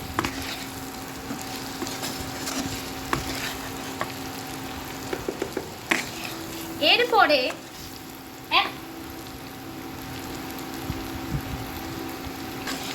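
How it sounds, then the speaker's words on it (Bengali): Potatoes being mixed with spices in a frying pan, with faint sizzling and occasional stirring scrapes under a steady hum, while a voice briefly speaks midway. "ভালো করে পটেটোগুলো মশলার সঙ্গে মিক্স করছি।"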